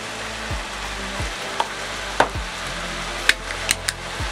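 Beef sizzling in a pan with garlic, onion and carrots, a steady frying hiss with a few brief clinks and stirring knocks near the end, heard alone.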